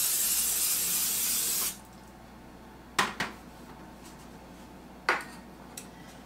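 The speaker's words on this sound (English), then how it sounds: "I'm going to spray my cookie sheets with a little bit of baking spray" Baking spray from an aerosol can hisses steadily onto cookie sheets for about a second and a half, followed by a few faint clanks of the metal pans being set down in a quiet kitchen.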